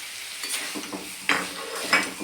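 Jackfruit curry with fried potatoes being stirred in a sizzling pan: a soft, continuous frying hiss broken by a few louder scrapes and clinks of the spoon against the pan.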